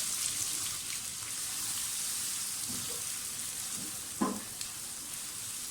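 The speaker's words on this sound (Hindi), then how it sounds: "प्याज को सोते करें, प्याज को बहुत ज़्यादा आपने ब्राउन नहीं करना।" Onions sautéing in a pan for an egg and onion curry give a steady, soft sizzle with a few brief stirring scrapes partway through.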